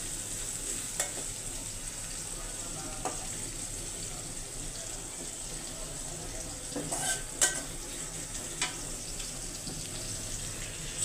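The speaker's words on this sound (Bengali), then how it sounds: "পেঁয়াজ দিয়ে দিলাম।" Sliced onions fry in a pan with a steady, moderate sizzle, joined by occasional soft scraping clicks of stirring.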